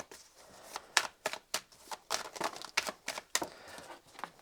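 Tarot cards being shuffled close by in a quick series of crisp slapping riffles, uneven in rhythm, with no talking.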